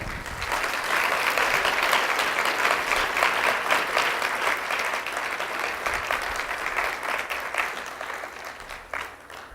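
A church congregation claps in steady applause for close to ten seconds, dense and fairly loud throughout before tapering slightly at the end, with no speech over it.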